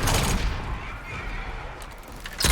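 Booming blasts and rapid gunfire from the video game Horizon Forbidden West crackle loudly in a dense burst, fading slightly before another sharp hit at the end.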